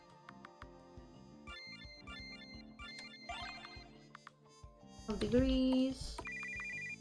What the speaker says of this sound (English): What kind of oldie-timey ringtone is that?